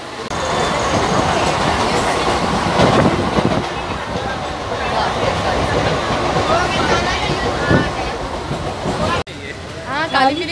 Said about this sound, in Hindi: finally we got the train and we got the place to sit